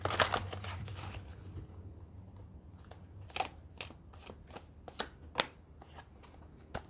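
A deck of tarot cards being shuffled by hand, giving soft papery riffles and several sharper snapping flicks spaced through the passage, close and fairly quiet against a low room hum.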